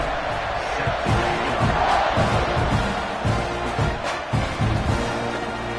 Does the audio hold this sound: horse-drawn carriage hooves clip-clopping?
no